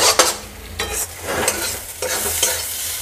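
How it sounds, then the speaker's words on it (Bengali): Mankochu (giant taro) paste stir-fried in oil, a spatula scraping and stirring in rhythmic strokes over a soft, continuous sizzle, close up. "এবার এটাকে ভালো করে কষাতে হবে যতক্ষণ না পর্যন্ত তেলটা ছেড়ে যাচ্ছে"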